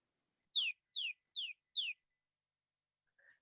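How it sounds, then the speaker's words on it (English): A single bird chirps four quick, bright notes in a steady rhythm, fairly close and clear against a silent room, followed by one faint, softer call a moment later. "I hear a bird."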